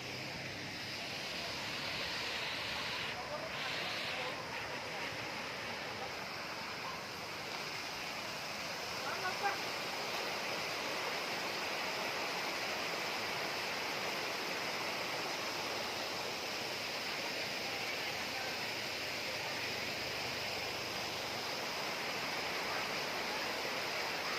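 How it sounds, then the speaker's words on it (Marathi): A steady, full roar of falling water from a waterfall at Tamhini Ghat heard up close, holding constant throughout with no voices. "आता तुम्हाला जवळून धबधबा दाखवण्याचा मी प्रयत्न करतो"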